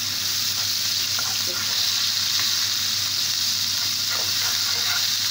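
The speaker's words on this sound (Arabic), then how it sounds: "انزل على طول بالثوم والفلفل والبهارات كده، وعندي نص ليمونه برضه هعصرها معاها كده، اديله تشويحه صغيره" Garlic, pepper and spices sautéing in a pan with a squeeze of lemon juice give a steady, even sizzle and frying hiss with a few faint clinks of stirring, close by and with no talk.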